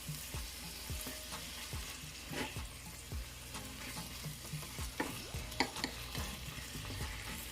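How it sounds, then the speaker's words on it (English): Saltfish fries in hot oil for chickpeas and saltfish run down, a quiet, constant crackling sizzle. Scattered soft taps and scrapes from a utensil stirring the pan come through it. "Now we're gonna add the saltfish because I want it to fry up a little bit in the oil"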